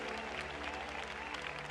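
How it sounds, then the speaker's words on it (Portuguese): A church congregation applauds, a steady dense patter of many hands clapping together at moderate loudness, with a low hum beneath. "Jesus merece nossos aplausos"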